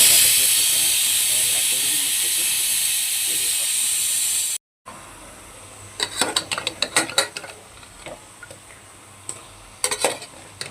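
Mutton biryani cooks in a home kitchen, a loud, even steam hiss running for several seconds before cutting out, followed by quieter clinks and scraping of utensils.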